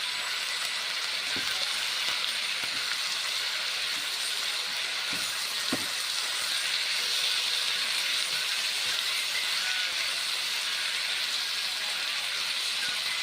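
Pumpkin slices seasoned with salt and turmeric fry in a pan while a spatula turns them: a continuous hissing sizzle with a few soft scraping taps, near and even, no talk.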